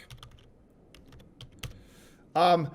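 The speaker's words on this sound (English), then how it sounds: "We're going to type in cyberduck." Scattered light clicks of typing on a computer keyboard, quiet and uneven, ending in a brief louder burst of sound.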